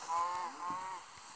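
A chicken in the Minecraft video game gives two short, nasal honking clucks in quick succession, clear and close, with nothing else around them.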